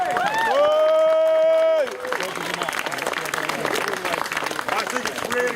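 Audience at a Cable Street 80th anniversary event applauding the Cornucopia Theatre troupe, with a loud whistle-like tone at the start giving way to dense clapping mixed with cheers and voices.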